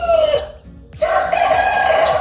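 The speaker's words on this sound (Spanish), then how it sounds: "Tiene plumas, muy bien, es el gallo." A rooster crows loudly and close, one long strained call breaking off briefly, then a second drawn-out crow with harsh, buzzy tone and a faint rhythmic clucking underneath.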